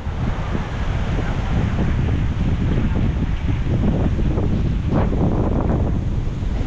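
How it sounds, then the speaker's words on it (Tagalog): Strong, steady wind roars and buffets the microphone throughout, a constant loud rushing with no voices. "Grabe, lakas ng hangin."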